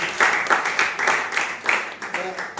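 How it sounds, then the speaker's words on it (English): An audience claps in uneven bursts, with cheering voices mixed into the applause throughout. "Clap for him, clap for him, clap for him."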